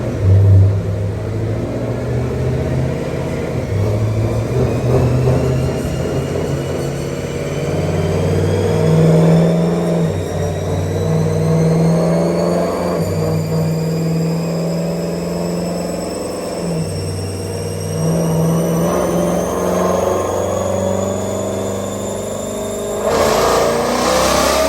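A turbocharged car engine revs hard on a boost tune set for about 12 psi, its loud, sustained rising pull and high whine climbing steadily for over twenty seconds before a sharp final rip.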